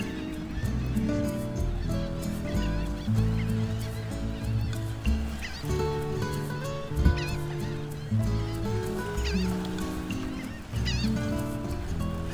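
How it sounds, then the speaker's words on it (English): A flock of birds, probably geese or gulls, honks and calls loudly and continuously by the water along a Texas beach road just before sunset, layered with chatter and no speech. "Birds always go crazy just before sunset"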